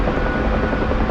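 Steady, loud helicopter rotor and engine roar from a flight simulator game, a dense continuous drone with no breaks and no voices.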